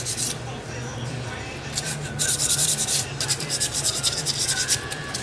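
Rust being rubbed off the metal surfaces of a hammer with steady abrasive scrubbing, a continuous gritty rasp that grows louder and more rhythmic midway, heard close up over a low background hum.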